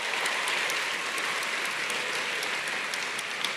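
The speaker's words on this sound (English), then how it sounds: "Let's give them a round of applause." A hall full of people applauding at an engineering graduates' recognition event, steady dense clapping at an even loudness throughout, with no voices over it.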